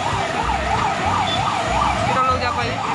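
An ambulance siren wails continuously in a rising and falling cycle amid road traffic at a signal on an Indian street, with engine rumble and traffic noise underneath.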